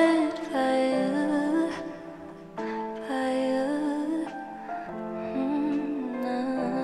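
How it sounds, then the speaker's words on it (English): Sampled vocal line sung over piano, with sustained harmonic notes and phrases broken by short pauses, steady and close throughout with no speech. "So this is how the original vocal sounds together with the piano."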